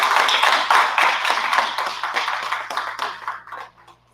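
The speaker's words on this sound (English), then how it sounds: "Can we please give a round of applause for Mr." A round of applause from an audience welcoming a speaker at an event, dense and fairly close clapping that gradually thins and fades out within about four seconds.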